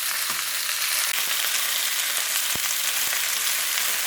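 Chicken wings for Chinese BBQ fry in a pan with a loud, dense, unbroken sizzle close by and occasional knocks as they are turned.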